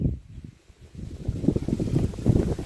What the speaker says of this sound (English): The wind is blowing off my mangoes.